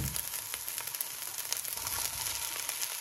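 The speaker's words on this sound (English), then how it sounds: "right now it's time to mix our veggies and our rice" Vegetables and rice for Cameroon fried rice being stir-fried together in a pan, giving a steady, close sizzle and crackle with faint scraping through the whole stretch.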